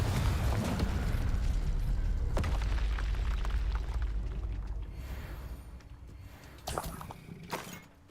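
A Confringo blast spell in the Hogwarts Legacy video game sets off a loud, rumbling explosion with crackling debris that slowly fades, followed near the end by two sharp impact bursts.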